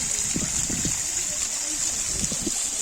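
Water falls in a park grotto, a steady rushing hiss heard at a middle distance, with faint bits of people talking underneath it.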